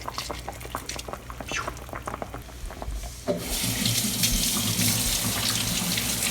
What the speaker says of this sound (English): You want to rinse off the excess cilantro.